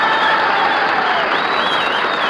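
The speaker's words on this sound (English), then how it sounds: "Come on, start clapping." Dense, steady applause and cheering from a concert crowd in a Milwaukee ballroom after a big band performance, filling the room evenly throughout.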